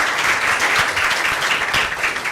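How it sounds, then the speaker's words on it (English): An audience at an entrepreneurship pitch competition applauds the judges, a dense, steady wash of many hands clapping throughout. "A round of applause for our judges, please."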